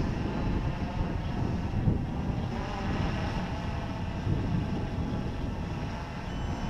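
An FPV model aircraft descends in flight, a continuous broadband whir of motors and propellers holding steady at moderate loudness, with no voices.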